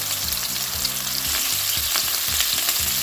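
Meatballs browning in a pan, a constant close sizzle of hot oil running under a low, regular pulsing hum, with no talking.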